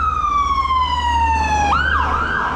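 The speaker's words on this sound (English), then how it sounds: "No, it's an ambulance." An ambulance siren wails nearby, one long falling tone that sweeps into a rising and falling warble toward the end, over a low steady rumble of engine or water.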